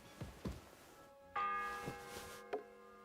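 Church bell in Kingdom Come: Deliverance 2, struck several times with a sustained, ringing tone and a few duller knocks, moderately loud with no talk.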